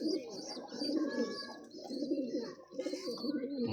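Close pigeon cooing from a golden female pigeon in a bird-keeping setting, soft throaty rolling coos repeating steadily with some faint chirps mixed in.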